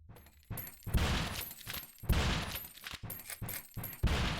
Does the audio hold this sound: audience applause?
no